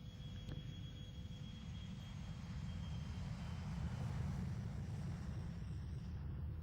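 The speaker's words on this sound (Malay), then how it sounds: "pesawat akan menjalani satu ujian penerbangan untuk memastikan pesawat ini selamat" An aircraft engine drones on a test flight, a steady, fairly loud low rumble with a broad airy roar above it that holds for several seconds without a break. No voices are heard.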